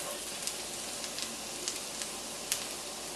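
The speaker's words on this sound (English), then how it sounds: "we will add the butter and let it melt. Once it's melted, we are going to add our garlic and saute it till fragrant" Garlic sautéing in melted butter in a hot pan gives a steady soft sizzle with small scattered pops, fairly quiet and continuous.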